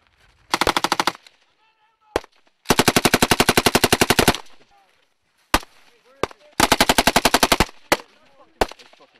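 Soldiers firing a machine gun in a joint Japanese and US live-fire exercise in Japan: three loud, close sustained bursts of rapid automatic fire, separated by single sharp shots and brief pauses with faint shouted commands.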